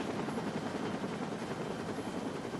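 Metro-Dade air rescue helicopter, a continuous rotor and engine roar that stays constant and fairly distant the whole time, with no talk.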